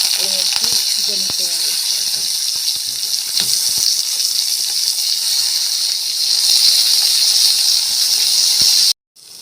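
Brinjal (eggplant) pieces frying in hot oil in a wok, giving a loud, continuous sizzle with occasional spatter and utensil clicks, steady throughout until a sudden cut near the end.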